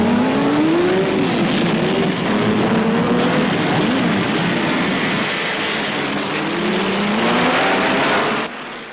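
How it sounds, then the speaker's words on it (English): Early Ferrari, Alfa Romeo and BRM Grand Prix cars race at the British Grand Prix on an old newsreel soundtrack, engines droning loudly with rising and falling pitch as cars pass, muffled and band-limited throughout. "BRM drivers Reg Parnell and Peter Walker viewed the new Ferraris with mixed feelings at the British Grand Prix"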